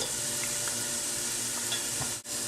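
Onion sizzles in melted butter and olive oil with garlic in a pan for pumpkin soup, a steady close hiss with faint pops and a brief dip near the end.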